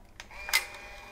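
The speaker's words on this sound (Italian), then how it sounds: "teniamo premuta la cartuccia e premiamo il pulsante di scatto" An Instax Mini 9 instant camera fires its shutter as the button is pressed, giving a brief mechanical click and whir that peaks sharply midway through a quiet, close-up moment.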